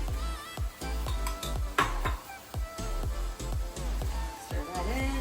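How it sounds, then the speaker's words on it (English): Minced garlic stirred into a cooking pan for spaghetti bolognese: a spoon scrapes and taps the pan in quick, repeated strokes over a light sizzle, close up. "Stir that in"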